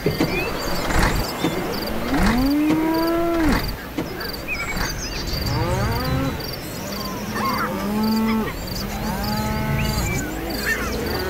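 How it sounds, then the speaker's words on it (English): Cows in a Norwegian fishing village moo repeatedly, several long drawn-out calls at mid distance over a steady background hum, with no one talking. "Seems the residents of the houses are cows. There's a lot of cow sounds."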